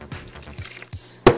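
Room-temperature water goes into a deep-dish pizza dough mixture, a few soft drips followed by a sudden louder splash at the end.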